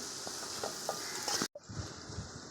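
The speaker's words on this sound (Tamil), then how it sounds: "புதினா மல்லி இலை வந்து ஒரு கைப்பிடி போட்டிருக்கோம் அதையும் போட்டு நல்லா வதக்கிக்கிறலாம்" Green chilies, onion, ginger-garlic paste, mint and coriander sauté in oil for chicken biryani, with a soft continuous sizzle, a few light stirring scrapes, and a quiet moment before the frying resumes.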